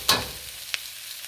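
Vegetables being stir-fried in a pan for pepper beef: a short sizzling scrape near the start, then a fainter second stir, quiet in between and no talk.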